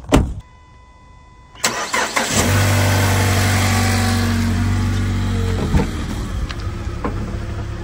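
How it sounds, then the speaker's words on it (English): A salvage car at a Copart auction lot with its check engine light on cranks and starts, then settles into a loud, close idle with slight unevenness and a few small revs. "Check engine light is on. I mean, it's running a little rough"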